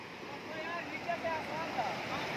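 Fast-flowing cold river water at Cheena Marag rushes in a steady, broadband wash with a faint whistling wind and splashy textures, close and continuous for a few seconds.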